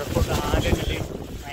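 Wind buffets the microphone on the misty Areekal hilltop near the waterfall, gusty low rumbling bursts rising and falling, with faint voices mixed in.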